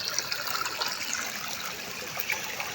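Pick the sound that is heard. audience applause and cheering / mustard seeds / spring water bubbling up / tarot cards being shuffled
spring water bubbling up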